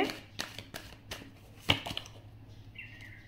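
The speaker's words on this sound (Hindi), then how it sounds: "सारे कार्ड्स एक साथ ही निकाल रही हूँ गाइस ताकि अच्छे से एक्सप्लेन कर पाऊँ।" Tarot cards being drawn and handled, with soft shuffling and slapping strokes in an irregular series of brief taps, one sharper snap partway through, fairly quiet against a faint background hum.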